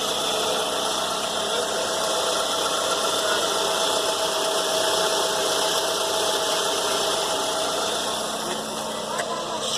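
A 2005 Toyota Camry engine idles steadily after an oil change, a continuous even hum with a light mechanical rattle, recorded close up and loud.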